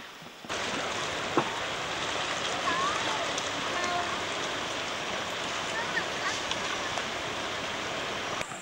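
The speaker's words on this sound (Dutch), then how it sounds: "Krijg je weer een stroomversnelling, hoor. Een waterval." Waterfall and river rapids in Thailand rush in a steady, loud, broadband roar of churning water with no pauses, close by and filling the whole scene.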